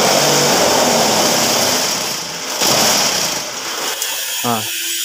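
A brick press machine for three-hole concrete blocks runs with both its motors on, giving a loud, steady mechanical drone and rattle that eases briefly midway, then a few sharp clanks near the end.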